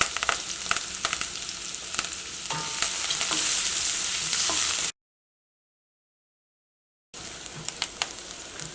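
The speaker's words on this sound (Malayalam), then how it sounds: "അപ്പോൾ സവോള മൊരിഞ്ഞ് ഒരു ഗോൾഡൻ കളറായി തുടങ്ങിയിട്ടുണ്ട്" Onion and curry leaves fry in coconut oil for a Kerala moru curry, a steady close sizzle with scattered crackles and stirring scrapes, broken by a couple of seconds of silence before the sizzling resumes.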